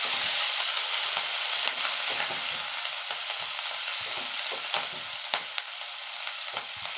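Onions and green chillies frying in a pan, a steady close sizzle with occasional stirring clinks and scrapes, no talk.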